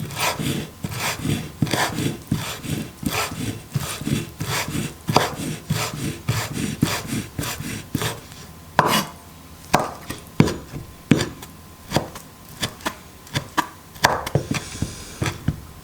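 Small capers sliced with a knife on a cutting board, a run of quick, rhythmic chopping taps that slows into slower, separate cuts, close and fairly quiet with no talking.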